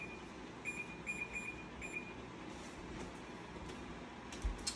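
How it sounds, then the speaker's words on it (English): A kitchen timer is set for 8 minutes while cooking pear ginger chutney and seared pork chop: a quick series of faint, high electronic beeps early on, then a quiet kitchen background. "We'll set a timer for 8 minutes."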